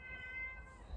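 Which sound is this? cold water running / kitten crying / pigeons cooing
kitten crying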